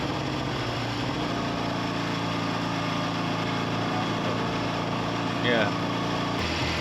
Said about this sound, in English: And the bike was fluttering, you can hear it.